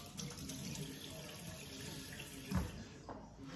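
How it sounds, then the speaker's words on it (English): Hands being washed under a running kitchen tap after handling avocado, a steady faint stream of water with a brief louder splash partway through, no talking. "Wash your hands."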